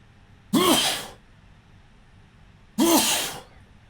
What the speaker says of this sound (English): I seem to have a bit of a sneezing fit going on.